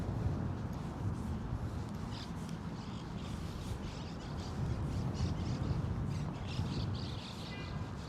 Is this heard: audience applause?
no